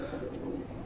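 Pigeons of a prized bloodline cooing softly in a low, continuous murmur, close by, with no other sound over them.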